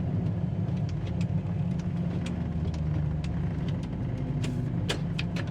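A 1969 Pontiac Firebird with the 400 engine sits idling, a steady low rumble that holds even and close throughout, with faint clicks and ticks on top and no voices.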